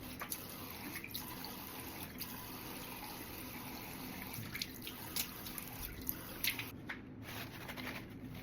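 Water splashing and dripping at a sink as a homemade face pack is washed off, faint and close, with soft wet squishes and trickles and no talk.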